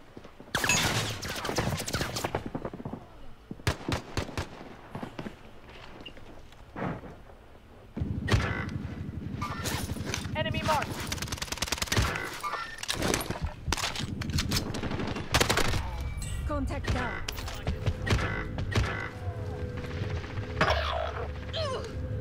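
Rapid automatic gunfire and scattered single shots crackle through a Call of Duty: Warzone match, with bursts loud and near and others farther off, continuing almost without pause amid game noise.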